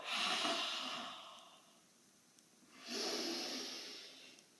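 Two long breaths are pushed out during a Pilates exercise, close and airy, each a soft sustained hiss that swells and tapers, separated by a short quiet pause.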